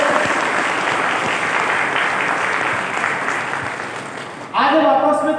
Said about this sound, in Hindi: मैं बार जरूर चाहूंगा हमारी मातृशक्ति के लिए तालियां हो जाए।